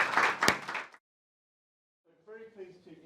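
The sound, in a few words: audience applause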